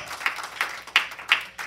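A church congregation claps in a steady rhythm of about five quick, fairly faint beats, with no talking over it.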